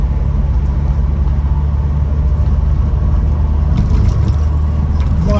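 A Ford Cortina 1600E rolling along the road, its engine a steady low rumble with constant road noise from inside the car, loud and continuous, with a few faint rattles near the end.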